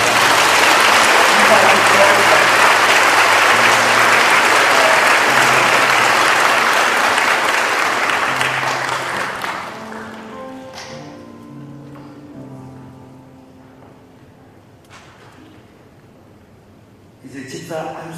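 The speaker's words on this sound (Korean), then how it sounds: "우리 축복하며 박수 한번 크게" A church congregation applauds loudly at an anniversary ordination service for elders, deacons and deaconesses, the dense clapping sustained for about ten seconds before fading out, followed by scattered taps and a quieter room.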